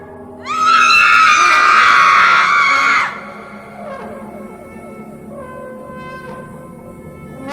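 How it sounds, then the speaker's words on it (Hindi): A woman lets out a long, loud, shrill scream of horror in a dark forest at night, holding for about two and a half seconds before breaking off into quieter, trembling sounds. "प्रिया चीखी।"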